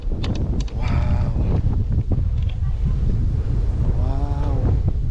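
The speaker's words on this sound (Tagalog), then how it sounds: "Ganda ng hangin. Ganda ng dagat." Strong wind buffets the microphone at Anawangin beach in Zambales, with sea waves rumbling underneath, loud and continuous throughout.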